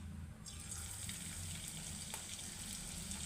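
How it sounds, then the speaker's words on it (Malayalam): Pieces of homemade milk snack frying in hot oil, giving a steady, close crackling sizzle that stays even throughout with no talking. "ഇത് നമുക്ക് എണ്ണയിലിട്ട് വറുത്ത് കോരാം."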